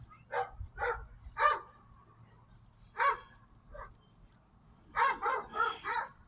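A dog barks excitedly in short sharp bursts, three quick barks, then a pair, then a rapid run of four, close and loud against a quiet background.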